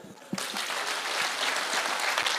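An audience at a security meeting breaks into brisk, dense applause that starts abruptly and holds loud and steady for a couple of seconds, with no talking.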